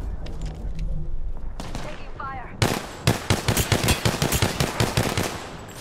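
Rapid bursts of automatic gunfire ring out in the battle royale game Apex Legends, starting with scattered shots and then building into a loud, dense volley of close-range fire, with a player's voice talking faintly before it.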